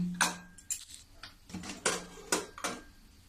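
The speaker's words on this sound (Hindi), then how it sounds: "अब मैं कुकर खोलती हूँ।" Several sharp metallic clanks and clicks at irregular intervals as a pressure cooker lid is handled and opened after cooking dal, close by with no talking.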